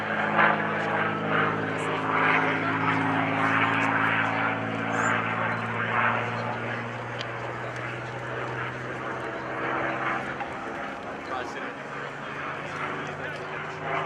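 A P-51D Mustang with a Rolls-Royce Merlin engine drones steadily at a distance, its propeller hum holding a smooth, sustained tone that slowly shifts pitch as it passes, while someone talks over it.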